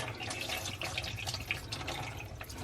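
Cold water mixed with vinegar is poured down a kitchen sink drain, making a steady, close splashing and trickling that runs without pause for the whole stretch.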